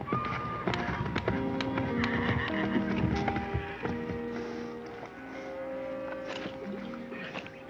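A horse whinnies loudly close by, with a drawn-out neigh over steady clip-clopping hooves and a busy outdoor background, no speech.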